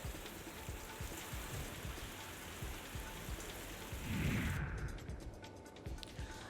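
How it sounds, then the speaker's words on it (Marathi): Steady, dense unseasonal evening rain pours down in Satana, Nashik, with a constant hiss. A dull low rumble swells midway, and the downpour thins slightly toward the end. "नाशिकच्या सटाणा तालुक्यात संध्याकाळच्या सुमारास अवकाळी पावसानं हजेरी लावली"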